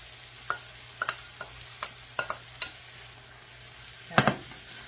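Linguiça sausage and peppers fry quietly in a pan beneath a faint sizzle, with scattered utensil clicks and scrapes, and a louder stirring clatter near the end.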